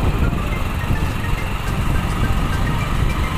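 A motorbike engine runs steadily underway on a road near a toll gate, a loud, close, continuous low rumble with constant vibration and no voices.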